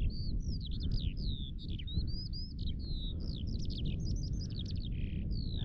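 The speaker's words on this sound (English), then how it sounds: "The breeze and the bird song." Birds sing in the Cheviot Hills, with bright chirping phrases repeating almost continuously, clear and fairly close, over a steady rushing breeze.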